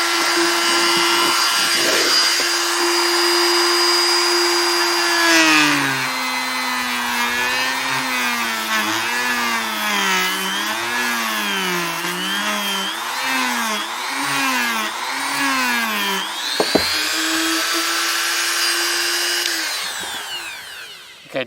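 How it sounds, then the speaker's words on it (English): A high-pitched Ryobi RRT200 rotary tool sanding at speed setting 3 whines steadily, its pitch wavering up and down as it grinds against a surface, then settles into a steady whir near the end. "I did a little bit of sanding right there."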